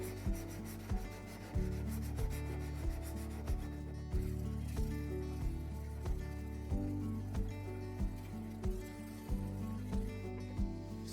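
A hedge shear blade bevel being sharpened with steady, close rasping strokes, repeated in an even rhythm throughout, with short pauses between passes.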